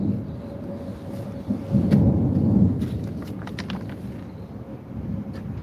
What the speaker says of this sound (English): You guys can hear the thunder?